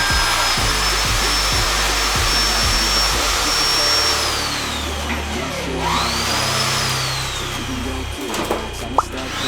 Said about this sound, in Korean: TS 볼트를 샤렌치로 조여져 튼튼하게 고정 작업을 진행해줍니다.